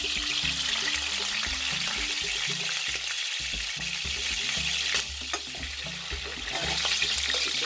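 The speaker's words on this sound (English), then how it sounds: "I'm frying them until it's golden" Chicken pieces frying hard in hot oil in a pot for stew, a loud, steady crackling sizzle with constant spitting and popping throughout, no voices.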